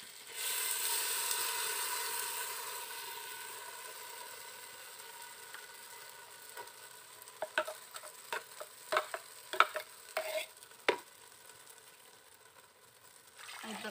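Masala sizzles in a pan, loudest at first and then fading, followed by scattered scraping clicks as it is stirred.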